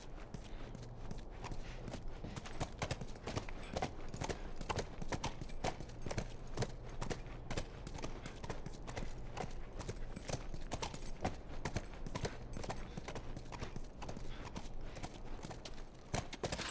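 Horse hooves clip-clop steadily and continuously in The Last of Us game, a dense even rhythm of walking steps over a low rumbling background, with no talk.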